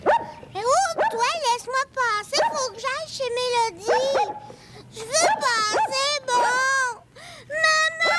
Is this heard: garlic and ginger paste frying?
no